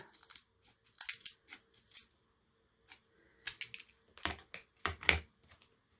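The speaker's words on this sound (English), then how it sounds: "If you have a decent, strong pair of scissors, sometimes you can cut across that real slow" Strong scissors slowly cutting across material for a faux wood barn door, giving a series of crisp snipping bursts with short pauses between them, fairly close and alone.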